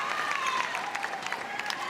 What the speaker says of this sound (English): such is the noise from this England crowd